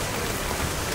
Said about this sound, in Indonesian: Hujan badai.